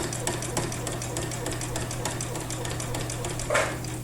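Sewing machine stitching steadily during free-motion quilting in the ditch, the needle's rapid even rhythm running continuously at close range under a low hum, with a brief louder burst near the end.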